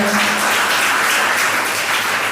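Congregation at a Sunday Holy Mass clapping together, a dense steady wash of applause filling the room loudly for the whole stretch with no talk over it.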